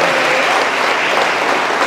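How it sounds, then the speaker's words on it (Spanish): Loud, close applause from a church congregation for Loriana at her baptism, a brief burst of dense clapping that holds steady throughout. "Un aplauso para Loriana."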